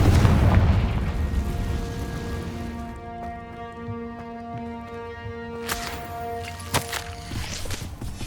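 A Confringo blasting curse explodes in the video game Hogwarts Legacy, a heavy booming blast that fades into a ringing tonal decay, followed by a few sharp magical cracks and bursts.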